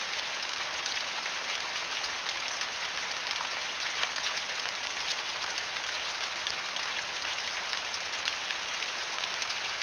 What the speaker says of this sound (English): The rain cascades through the canopy, a quiet symphony of droplets plays, quenching the thirsty soil